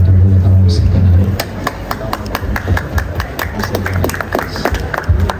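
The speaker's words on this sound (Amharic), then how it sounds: "ጭብጨባ ምንድን ነው ይሄ?" Clapping from a gathered crowd at a celebration where a singer is handed a car, sharp irregular hand claps building and continuing over murmuring voices and talk nearby.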